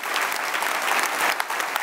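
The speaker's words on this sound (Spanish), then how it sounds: "Le das un aplauso" Dense church congregation applause, a steady wash of many hands clapping at once, fairly loud and continuous for a couple of seconds.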